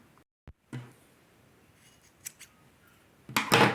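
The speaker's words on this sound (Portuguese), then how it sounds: "Agora, vamos cortar o fio e arrematar." Scissors cut crochet yarn at a vest project, giving a few faint snips and then a louder, close crisp snip near the end, with quiet pauses between and no speech.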